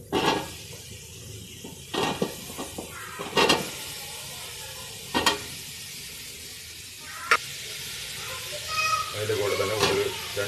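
Ingredients for Palakkad chicken kuruma sizzling in a pan, a soft continuous fry broken by several sharp clinks and scrapes of a spoon stirring against the pan.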